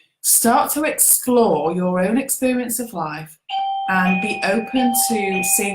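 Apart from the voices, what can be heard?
doorbell ringing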